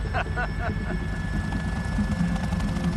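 Helicopter flying in a film excerpt, a steady low rotor drone with a faint rhythmic beat throughout, a voice briefly audible at the start.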